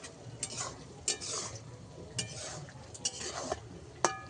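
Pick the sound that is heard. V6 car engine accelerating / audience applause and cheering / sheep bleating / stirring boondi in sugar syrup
stirring boondi in sugar syrup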